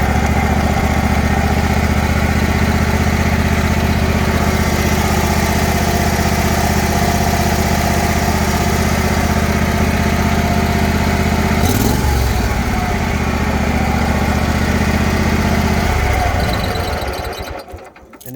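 A lawn mower engine with stock exhaust idles steadily and loudly up close with a constant low rumble, then sputters and cuts out near the end.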